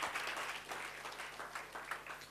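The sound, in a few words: church congregation applause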